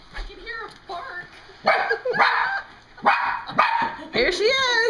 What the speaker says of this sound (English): I can hear a bark.